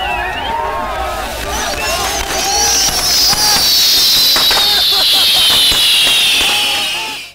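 Fireworks fixed to spinning, burning bulls at a fire festival crackle and pop in dense bursts, with a loud rising whistle sweeping through, over the constant babble of a nearby crowd.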